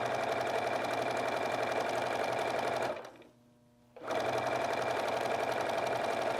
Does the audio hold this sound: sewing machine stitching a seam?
yes